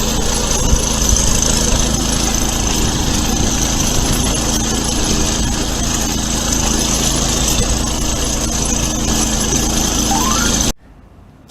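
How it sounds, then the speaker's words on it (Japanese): A hammer knife mower's engine runs loud and close in a steady, buzzing drone for about ten seconds before cutting off abruptly, with no talking. "今日はハンマーナイフモアで爆狩りします。 エンジン音が心地よいので"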